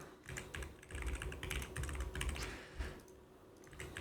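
Username and password are typed on a computer keyboard during a Zitadel setup with Docker Compose: quiet, close, quick bursts of key clicks with brief pauses, alone without talk.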